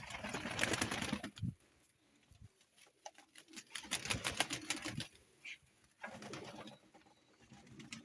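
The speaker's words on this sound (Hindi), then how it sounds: "देख लें अब आप कितने आराम से सुकून से जो है ना वो बर्ड्स इसमें दाना खा रहे हैं।" Pigeons cooing and pecking at grain in a feeding tray, with soft rapid tapping and patter from beaks against the tray, broken by short pauses and heard close.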